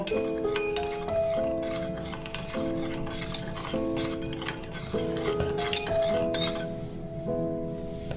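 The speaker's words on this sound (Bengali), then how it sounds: "এবার আমি খুব ভালো করে একটা চামচ দিয়ে জলের সঙ্গে নুনগুলোকে" A spoon stirs salt into water in a bowl, clinking against the sides in a steady repeating rhythm with bright ringing tones, close up and without speech.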